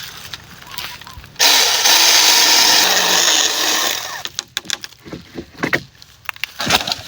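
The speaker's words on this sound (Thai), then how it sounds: "ผมจะมาเลื่อยกับต้นไม้นี่เลย" A cordless chainsaw with a 6-inch bar roars loudly for about three seconds cutting a tree, then cuts off into scattered knocks, clatters and rustling.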